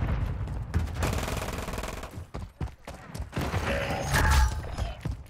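Rapid bursts of gunfire crack through a video game match, loud overlapping shots with mechanical clatter, briefly pausing before another volley.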